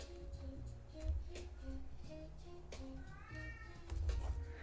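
A cat meows once with a rising, wavering call over soft background music, with low indoor sounds around it.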